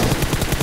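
Gunfire in the Free Fire battle royale game as an enemy is knocked down: a rapid, loud burst of repeated shots in quick rhythm, close and alone.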